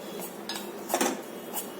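Mustard dal scraped from a hot kadai into another pot in a home kitchen: a few sharp metallic clinks and scrapes of utensil against metal vessels, close and fairly loud, with quiet stretches between them.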